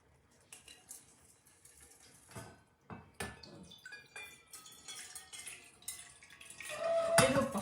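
A mix of rice, beans and lentils is washed in water in a home kitchen, with scattered clinks of grains and dishes and soft splashing that grows busier and louder toward the end.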